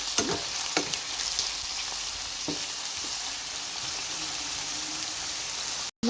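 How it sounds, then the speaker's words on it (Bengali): Shrimp and onion fry in hot oil in a pan, a continuous close sizzle with occasional sharper pops and light stirring clicks, no voices. "তেলের সাথে চিংড়ি মাছ পেঁয়াজ ভুনা করে দিয়ে"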